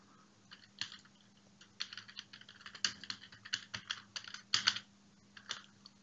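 Typing on a computer keyboard at an office workstation, with irregular bursts of fairly quiet, close key clicks in quick clusters, a soft steady hum behind them, and no voices.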